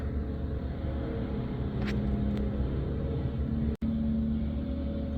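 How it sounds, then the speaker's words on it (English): Wood chipper grinding up tree branches outdoors, heard indoors as a steady, loud, rumbling drone that runs throughout with a brief dropout near the end. "pardon the grinding noise outside"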